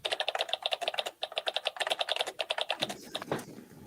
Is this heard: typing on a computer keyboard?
yes